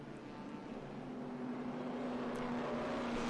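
Race cars, including a Porsche 914, rolling three wide on a formation lap at a circuit, a steady low engine drone that swells gradually and stays fairly distant, with no talking.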